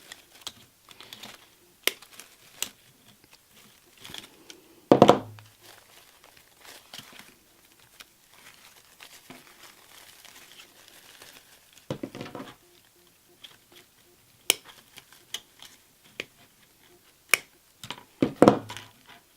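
Sharp intermittent snips and clicks from cutting artificial flower stems down into bunches, irregular and close, with a few louder crunchy cuts and light rustling between them.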